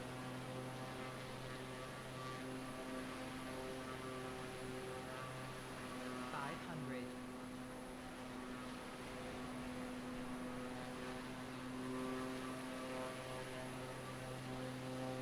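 A small propeller airplane engine in flight, a steady droning hum with strong tonal harmonics, continuous and fairly even throughout, heard from inside the cabin.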